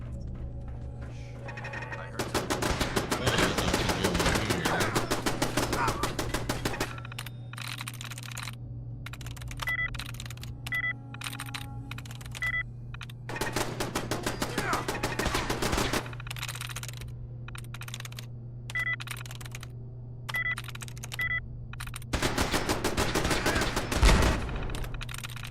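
Automated turrets in the Fallout 4 video game fire in long, rapid, clattering bursts separated by quieter gaps over a steady low hum, with some talking in between.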